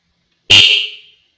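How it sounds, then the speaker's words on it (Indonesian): A motorcycle horn wired to an electrical test bench gives one short, loud, buzzy honk of about half a second, close and alone against silence. "Jadi klaksonnya sudah hidup."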